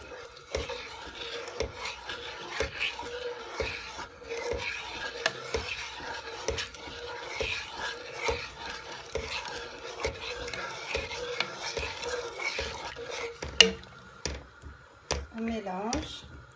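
Sugar, butter and milk are stirred together in a pot for caramel, producing repeated close scraping and rubbing strokes in an uneven rhythm, with voice sounds in places and a few sharper clinks near the end.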